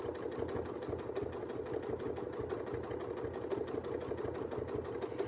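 Sewing machine stitching dense microfill quilting with fine silk thread through double batting, a fast continuous mechanical whir with rapid even needle clatter, close and steady throughout, no talking.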